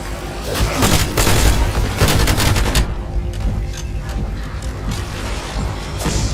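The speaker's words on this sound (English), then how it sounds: "Grenade out!" Grenade blast in the Black Ops 7 zombies mode: a loud, booming explosion and rumbling gunfire-like bursts in the first seconds, trailing into sustained noisy combat rumble.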